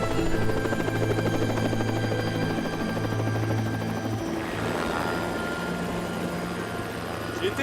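Helicopter with a steady, loud rotor thrum and engine hum that continues throughout, close by and constant.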